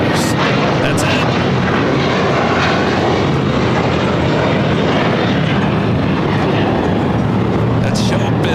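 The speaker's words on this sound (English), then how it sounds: "This is American Airlines 1590 taking off to Charlotte on the A321." An American Airlines Airbus A321 takes off at LAX, a loud, continuous jet roar filling the scene from start to finish, with people talking over the engine noise.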